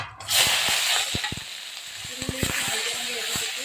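Washed flat beans dropped into hot oil with browned cumin seeds and bay leaf sizzle loudly at first, then settle into a steady frying hiss broken by soft clinks of stirring.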